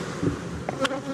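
Honeybees buzz around beehives in a short burst of close humming, with a couple of brief louder passes as individual bees fly near.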